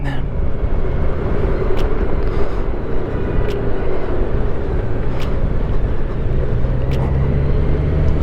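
Steady road and engine rumble from a car with an automatic transmission accelerating onto an interstate highway, loud and continuous from inside the cabin, with a few brief clicks and no talking.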